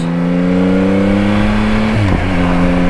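A 2024 Yamaha XSR900 motorcycle engine held at 3000 RPM in second gear on an easy throttle, a steady, smooth harmonic drone that briefly dips and wavers about two-thirds through before settling back to its even hum.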